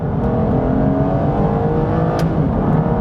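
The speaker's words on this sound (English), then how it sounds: "let's just try doing a bit of a harder acceleration here" An Aston Martin DB9 accelerates hard with a ZF automatic, its engine revving loudly and steadily higher, a continuous dense roar heard close from inside without talk.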